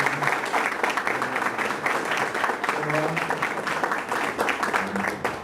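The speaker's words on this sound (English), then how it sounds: "but let's give Dale a round of applause." Listeners at a marketing talk applaud a guest speaker, with brisk, fairly close clapping and voices murmuring underneath throughout.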